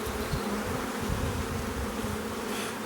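Honey bees buzz densely and steadily around an opened hive frame of brood during queen rearing work, a close, continuous drone with no voices.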